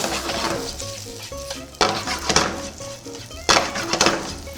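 Pasta being tossed and stirred through garlic oil in a pan for aglio e olio, with a steady sizzle under clinking utensil scrapes and two louder stirring bursts.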